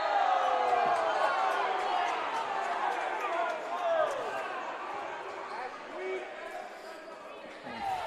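Crowd noise in a college basketball gym, Whitman against Pacific Lutheran, reacting to a referee's foul call: a sustained mix of boos and shouts from many voices, with a commentator talking over it.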